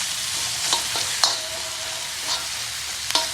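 Softened onion fries in hot oil with a garlic tempering, giving a steady close sizzle broken by several scraping strokes of the spoon as it is stirred, with no talking.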